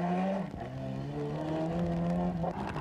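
A Toyota rally car driven by Frank Maher on a wet stage of the 1992 Galway International Rally, engine droning loud and steady with shifting pitch as it powers along, no talk.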